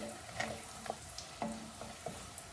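Asafoetida and curry leaves fry in hot oil for a tomato pickle, making a quiet, soft sizzle with a few light stirring clicks.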